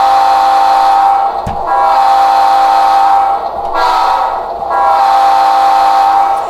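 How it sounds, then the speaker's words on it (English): A model Alco PA locomotive's sound decoder plays a Leslie S5T five-chime air horn, loud and bright, in three long sustained blasts separated by brief gaps. "loud sound of that 5 chime air horn"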